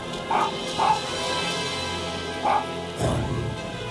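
Snowy the dog in The Adventures of Tintin video game, giving a few short yapping barks spaced over a few seconds over a steady game music bed.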